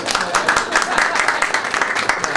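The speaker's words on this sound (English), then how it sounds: "More clapping." An audience claps steadily at a civic event announcing an affordable housing grant, a dense patter of many hands with some talk mixed in.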